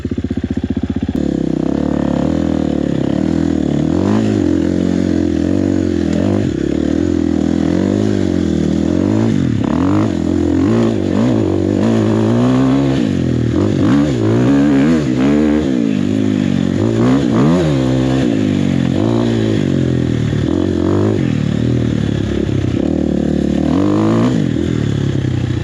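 An enduro motorcycle engine runs loud and close, its throaty note rising and falling as it is revved and ridden off in first gear, with rattles and clatter over a steady rumble and no talking.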